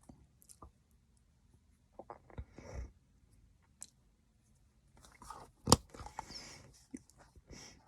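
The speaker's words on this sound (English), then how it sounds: "Terrible habit, chewing tobacco." Close, quiet chewing of tobacco inside an RV, with soft wet mouth sounds and sporadic crunches, plus a louder smack near the end.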